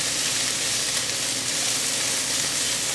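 Goat curry ingredients browning in hot oil, a steady, dense sizzle with a bright hiss that holds evenly throughout, close and continuous with no talking.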